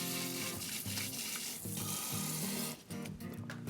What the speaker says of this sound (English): we want to use warm potable water, a nice mild soap, and we want to scrub our hands for about 30 seconds outside of the stream of water